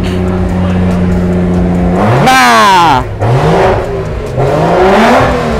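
A cambered Toyota Alphard at a car show, its engine idling steadily before revving up in several rising and falling bursts, loud and close.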